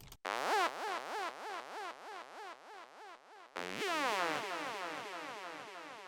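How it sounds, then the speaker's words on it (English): A synth squelch repeats in a steady rhythm of about a dozen resonant, wah-like plucks, then a brighter, denser burst of squelchy notes continues the pulse. "our first sound today is a simple squelch sound"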